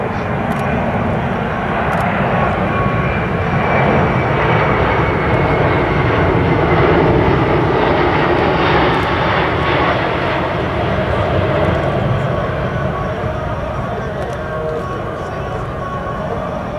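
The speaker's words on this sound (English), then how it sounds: "Now the crew is going to maneuver to demonstrate a full flap approach to a simulated short field runway." A USAF Boeing C-17 Globemaster III flying an airshow demonstration, its jet engines giving a broad, continuous roar that holds steady and loud throughout, with an announcer talking over it.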